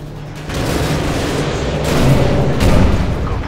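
AGM missile strikes exploding in Call of Duty MW2 Special Ops, a loud, sustained rumbling barrage of booms swelling and rolling on without pause, heavy low blasts close by.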